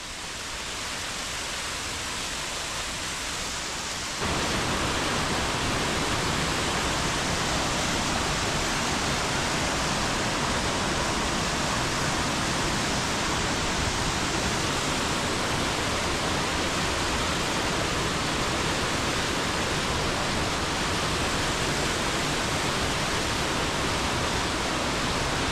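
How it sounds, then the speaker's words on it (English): A roadside waterfall on Mount Ellinor road pours in a steady, loud broadband rush that holds without a break. It swells noticeably after the first few seconds as it is approached, with no voices over it. "here's our first waterfall coming right up."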